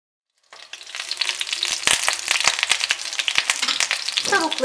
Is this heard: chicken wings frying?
yes